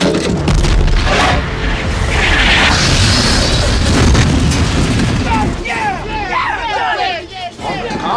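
A tank cannon fires in the opening battle of the 1996 war film Courage Under Fire, a loud boom over dense battlefield noise and radio chatter, which then fades into quieter crackling debris.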